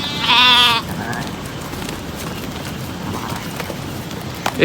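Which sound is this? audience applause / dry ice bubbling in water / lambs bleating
lambs bleating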